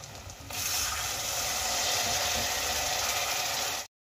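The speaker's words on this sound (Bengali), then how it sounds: "এবার আমি এর মধ্যে দিয়ে দেব সামান্য জল" Water splashes into a hot pan of frying masala with Kashmiri chilli powder for Bengali egg curry, setting off a loud, steady sizzle that runs alone until it cuts off abruptly.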